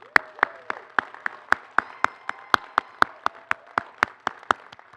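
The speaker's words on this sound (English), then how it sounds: "I think you deserve another applause." A single person claps slowly and steadily, about twenty crisp, evenly spaced claps standing alone, at a Bergen Community College commencement ceremony.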